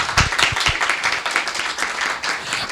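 A small audience applauds as architect Márcia Cavalcante is called up at a talk, brief uneven clapping with a few distinct close hand claps over the general patter.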